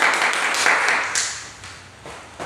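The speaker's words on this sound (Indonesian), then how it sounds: "tepuk tangan dulu untuk Johan" Classroom applause for a student, a short burst of students clapping that quickly fades away, with a bit of sound lingering near the end.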